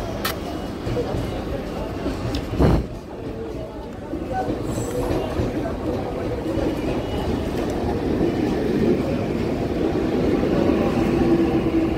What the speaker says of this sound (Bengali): রানাঘাটে নামলাম আর সাথে সাথে বনগাঁ ট্রেনটাও ঢুকছে